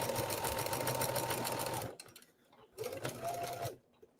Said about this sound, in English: I started sewing crooked already, see?